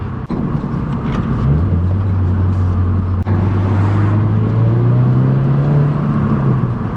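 Car engine held at a steady drone, then the revs rise about 1,000 RPM as the driver brings it up to shift into second gear, the pitch climbing smoothly and staying loud and close throughout.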